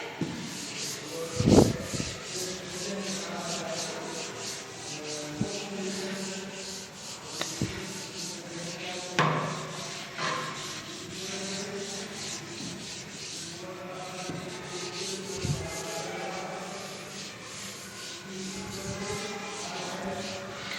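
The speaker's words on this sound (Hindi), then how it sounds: "Okay, see the board. Let me rub this." A classroom board being wiped clean of writing with a duster gives a long run of steady, scratchy rubbing strokes. Occasional knocks cut through, and a voice murmurs faintly in the background.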